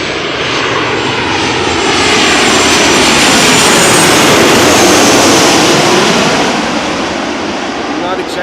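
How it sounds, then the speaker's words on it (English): A Boeing 737 jet on a quick landing approach roars loud and close, a broad steady engine rush that swells slightly toward the middle and holds throughout, with no other sounds standing out. "Right now we have this 737 approaching quickly, arriving from Paris Charles de Gaulle."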